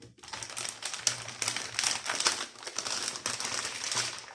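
Plastic anti-static bag crinkles and rustles almost continuously for several seconds during the unboxing of an ASUS ROG Strix Z490-H motherboard, with sharper crackles near and a faint low hum beneath.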